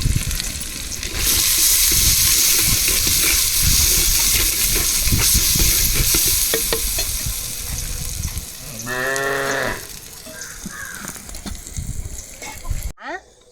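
Onions sautéing in a pan for Tamil pirandai (adamant creeper) kuzhambu, a steady broad sizzle and frying hiss running through most of the clip, with faint clatter, brief voices and a bleating animal heard in the background.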